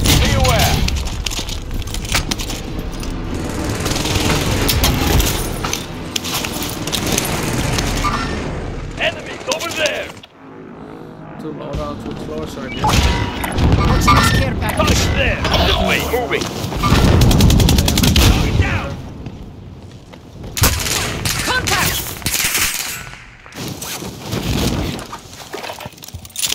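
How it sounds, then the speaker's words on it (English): Explosions from an allied precision airstrike in the video game Warzone Rebirth: dense, loud gunfire and booming blasts that come in heavy bursts with short lulls, mixed with game voices and player chatter. "Allied precision airstrike incoming."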